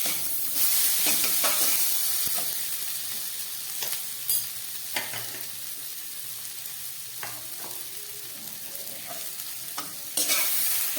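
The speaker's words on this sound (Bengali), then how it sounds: "এবার এটাকে খুব ভালো করে একটু ভেজে নেব।" Spices with cumin powder and dried chili frying in oil, a continuous close sizzle punctuated by intermittent scraping stirs and a few sharper knocks of the utensil against the pan, with no talking.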